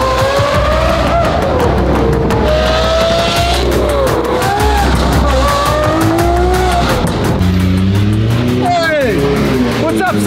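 Twin-turbo Lamborghini Huracan STO tuned by Underground Racing to about 1650 wheel horsepower, its loud, raspy engine roaring up close with brief tire-squeal chirps, while voices talk over it throughout.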